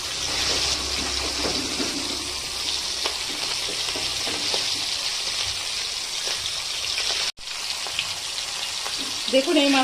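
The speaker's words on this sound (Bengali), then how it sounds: "এই পিঠটাও ভালো করে আমি ভেজে নেব।" Sarputi fish frying in hot oil in a kadai, a continuous loud crackling sizzle with faint spatters, briefly cutting out once before resuming, close by.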